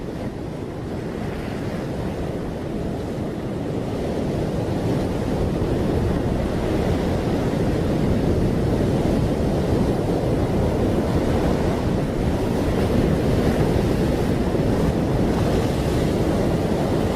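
Water rushes and surges in a dense, continuous roar of waves, loud and steady with wind-like broadband noise swelling slightly partway through and no voices.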